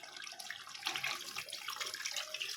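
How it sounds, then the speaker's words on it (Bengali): Hot water poured from a vessel into a pot of mutton curry with boiled meat and potatoes, a short continuous splashing gush, fairly quiet and close, without talk. "যতটা ঝোল করব সেরকম জল দিয়ে দিলাম।"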